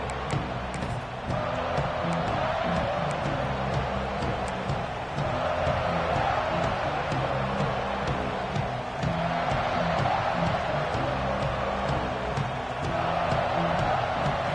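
A football stadium crowd at a Texas game roars in a steady, sustained wash of cheering and noise, dense and distant-sounding throughout, with no clear breaks.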